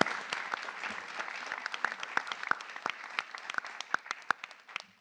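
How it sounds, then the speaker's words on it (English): A modest audience at a pitch contest applauds the presenters, a thin scattering of individual claps, fairly faint and uneven, tapering off toward the end. "let's have a round of applause for all our presenters for doing such a magnificent job today"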